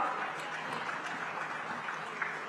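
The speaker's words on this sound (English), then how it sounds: "With a big round of applause, everyone, come on." Audience applause at a hospitality and tourism panel session, a steady, dense wash of clapping filling the whole stretch at moderate level with no pauses.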